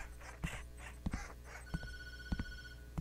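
A telephone rings in the Tattletail video game, sounding in short repeated bursts with a steady electronic tone, moderately loud and alone with no talking.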